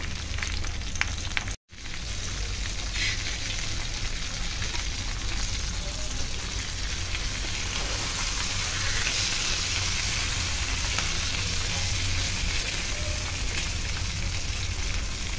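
Surmai fish wrapped in banana leaf with green chutney fries in a pan, giving a steady, close sizzle and crackle that carries on without a break, with only a brief dropout near the start.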